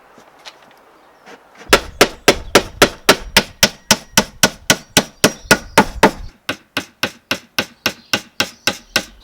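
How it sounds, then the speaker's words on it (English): A hammer strikes a slightly warped wooden board into a potting table frame in a fast, steady rhythm: about two dozen loud, even knocks with a brief pause partway through. "that will go straight once we hammer it in"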